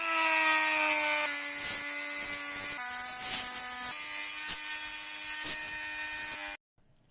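Dremel rotary tool cutting around the third brake light of a Peugeot RCZ, a loud, steady high-pitched whine that dips in pitch as the bit bites into the plastic, then stops abruptly.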